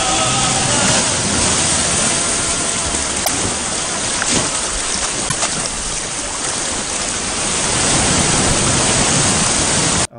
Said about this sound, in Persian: دوباره صدای آب اومد که اولش بود